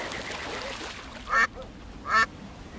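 Ducks in the Secret Files 2: Puritas Cordis adventure game give two loud, close quacks less than a second apart over a steady ambient background.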